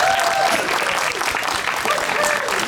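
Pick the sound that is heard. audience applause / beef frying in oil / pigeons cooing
audience applause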